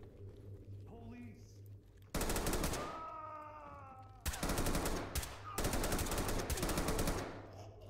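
Rapid automatic gunfire in the tactical shooter Ready or Not, loud sustained bursts broken by short pauses, with voices in between.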